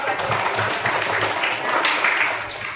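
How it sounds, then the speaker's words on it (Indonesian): Classroom of students applauding during a primary-school computational thinking lesson, a dense continuous patter of clapping with some chatter mixed in, fairly loud and close. "Tepuk tangan dulu dong."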